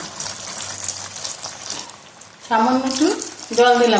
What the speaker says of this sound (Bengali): এবার একটু সামান্য একটু পরিমাণে জল দিলাম